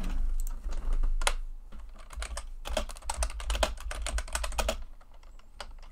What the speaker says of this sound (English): My typing's terrible when I try to be fast.